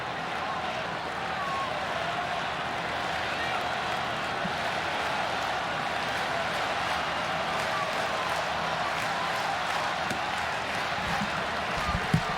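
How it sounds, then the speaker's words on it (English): Steady crowd din in a baseball stadium during a Cubs at Pirates game, a broad continuous roar with scattered claps and shouts, while a commentator talks over it. "This crowd making some noise."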